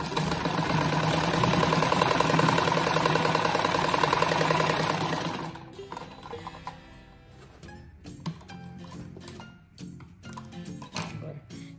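Dense mechanical whirr of a sewing machine running steadily for about five seconds as it stitches the two seams of a pillow, then stopping, leaving quieter handling noises and scattered soft clicks.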